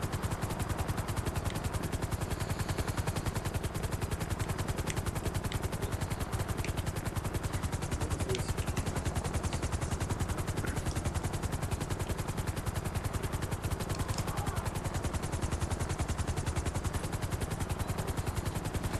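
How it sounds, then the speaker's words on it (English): Dense, continuous rapid gunfire rattling over a constant drone of police helicopter rotors in Grand Theft Auto, loud and unbroken throughout, like an intense game battle. "shooting choppers, police choppers out there with a rocket launcher"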